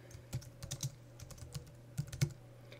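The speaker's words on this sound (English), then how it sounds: "So we'll start by typing in a sample title." Someone types text into a document on a computer keyboard: soft, irregular key clicks in small clusters, close and quiet, over a low steady hum.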